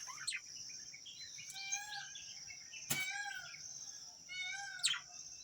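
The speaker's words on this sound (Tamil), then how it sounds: "பாருங்க ஃப்ரெண்ட்ஸ், ஏதோ ஒரு குயில் கத்துது" An Asian koel calls outdoors on a morning at home, giving a few short rising notes among other scattered bird chirps, moderately distant over quiet background ambience.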